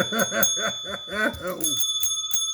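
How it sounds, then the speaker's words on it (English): A bell that needs a new clapper rings in a rapid series of short, tinny strikes, clustered bursts with brief gaps and a lingering high tone, up close and alone. "Damn bell."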